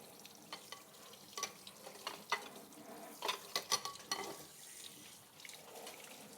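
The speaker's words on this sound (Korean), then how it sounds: "물이 점점 뿌려지는데" Running water sprays and splashes as dishes are washed in a sink, with soft clinks of bowls in a quiet, close-up kitchen scene.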